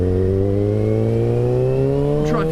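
A sportsbike engine revs loud and close in first gear, a steady harmonic drone whose pitch climbs slowly throughout.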